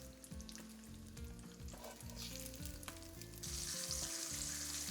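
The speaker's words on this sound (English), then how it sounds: "Any good wedge salad needs some bacon, of course. So we have some cooking in a pan" Bacon fries in a pan on the stove, a steady close sizzle that grows denser and louder toward the end, with no one speaking.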